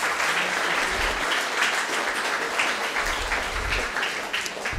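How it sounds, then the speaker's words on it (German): A warm round of audience applause greeting a guest at a literary event, continuous and even, many hands clapping at moderate distance with no voices on top. "begrüßen Sie bitte mit einem herzlichen Applaus meinen heutigen Gast"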